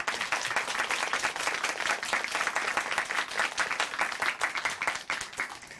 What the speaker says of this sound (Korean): 다시 한번 박수 보내드릴게요